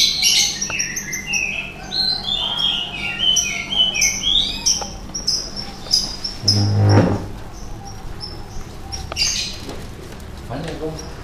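Crowne canaries in a collection chirp and trill in busy, overlapping high bursts throughout, with people talking nearby and a short thump partway through.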